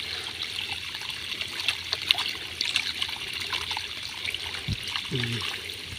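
A farm motor pump that had gone unused for days pushes water out in a thin trickle at a field, a steady light splashing flow heard close with scattered faint knocks and no talking.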